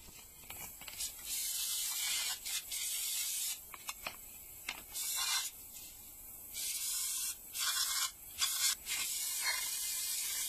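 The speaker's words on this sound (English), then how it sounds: "the channel behind the sensors need to be sprayed out as well" Repeated short bursts of aerosol cleaner spray hiss close by into a Suzuki Forenza throttle body, some quick, some held longer, with brief quiet gaps between.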